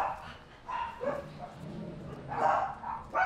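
Several dogs bark in irregular bursts, some near and some farther off, with yips mixed in.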